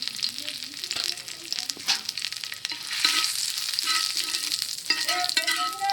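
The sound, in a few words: curry leaves and cumin seeds frying in a wok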